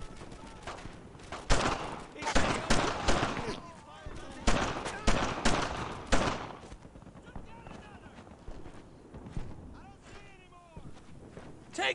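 Battlefield gunfire in Brothers in Arms: Earned in Blood, repeated rifle and machine-gun bursts mixed with shouted commands, loud in the first half and thinning to scattered distant shots later.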